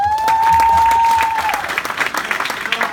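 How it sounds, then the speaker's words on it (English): A crowd at a live cryptocurrency education event in Miami gives a short round of applause. A steady tone sounds at the start, then brief scattered clapping fades out. "So round of applause for them."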